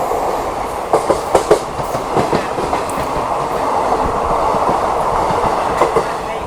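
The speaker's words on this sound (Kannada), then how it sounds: "ಇಲ್ಲೊಂದು ಟ್ರೈನ್ ಕ್ರಾಸಿಂಗ್ ಆಗ್ತಾ ಇದೆ." A Hubballi–Arsikere express train crosses close by, loud and continuous, with rhythmic clickety-clack wheel beats over a rolling rumble throughout.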